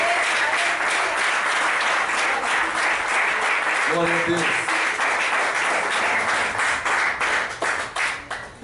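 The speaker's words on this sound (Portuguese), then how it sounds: "A ele mais uma salva de palmas." Church congregation applauding steadily and loudly throughout, dense clapping with a brief voice calling out praise midway, the applause thinning near the end.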